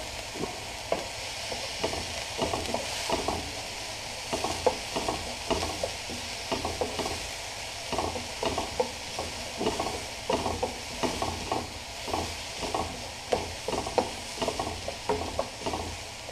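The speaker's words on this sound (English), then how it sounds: "when you're about halfway there you can chuck in some chopped chili" Chopped chili frying in a pan with mussels, stirred so a spoon scrapes and clatters in an irregular rhythm over a steady close sizzle.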